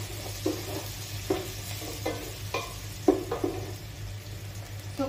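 Finely chopped onion fries in a pan for Goan muga gathi, a soft continuous sizzle broken by regular spoon stirs and scrapes every second or so.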